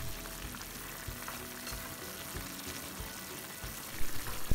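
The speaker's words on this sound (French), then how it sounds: "On remue un peu au cas où certaines lamelles de concombre amer ne seraient pas assez cuites." Strips of bitter melon and pork belly crackle and sizzle in a pan as they are stirred, a soft steady frying hiss with a few louder scraping knocks near the end.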